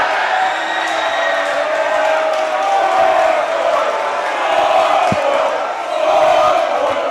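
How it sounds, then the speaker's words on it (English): A basketball game crowd in a gym cheering, a loud, continuous roar of yells and whoops that swells toward the end. "And now the crowds are starting to get into it."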